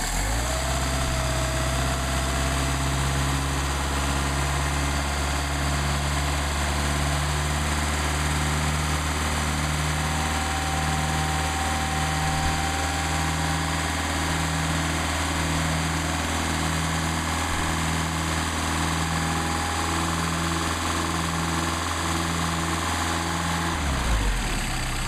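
A carbureted engine with master and slave chokes runs at a steady, loud idle close by for about 24 seconds while warming up, then cuts off abruptly near the end. No one speaks.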